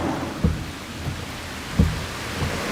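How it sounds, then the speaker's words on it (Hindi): Steady rain hisses down at a roadside bus stop while two dull, low thunder thumps sound a little over a second apart, with no talk. "बारिश हो रही है"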